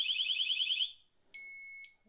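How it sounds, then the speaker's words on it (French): A Cranns disc lock alarm emits a shrill warbling electronic beep for under a second, then after a pause a short steady pre-alarm tone, loud and close. "c'est le petit bip avant déclenchement de l'alarme"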